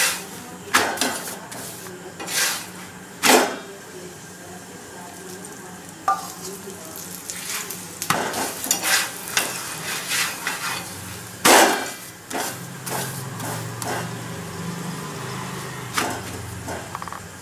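Soft paratha frying in oil in a pan, a low continuous sizzle broken by repeated sharp knocks and scrapes of a spatula against the pan, some louder bursts as the bread is pressed and turned.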